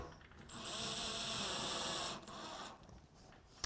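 A power drill whirs steadily, driving screws into an antique iron rim lock, one sustained whine for about two seconds and then a shorter burst, close and fairly quiet.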